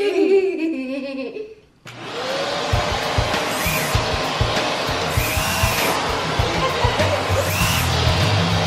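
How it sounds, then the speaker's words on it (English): A household vacuum cleaner switched on after a short stretch of children's voices, then running steadily and loudly with a broadband whine, while kids laugh and chatter over it. "so Isaac, you're gonna turn the vacuum on"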